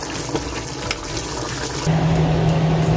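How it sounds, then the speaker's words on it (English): Water pours into a hot pan of frying curry goat, a steady rushing gush with a sizzling hiss that grows louder and fuller partway through, close and alone without talk. "then I add water to it so that the rawness come out"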